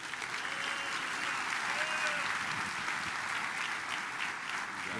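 A church congregation welcomes pastor Eurípides with applause, an even, fairly distant spread of many hands clapping together, steady and moderately soft from start to finish.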